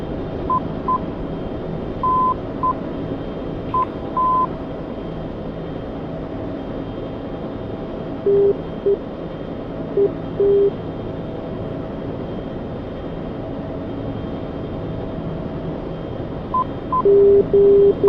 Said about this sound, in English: That sound you hear right there, that's the outer marker.